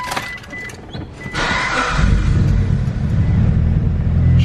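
A Mitsubishi Evo 8 fitted with a new big turbo cranks and fires up for the first time, settling into a loud, rough, low rumbling idle that continues steadily to the end.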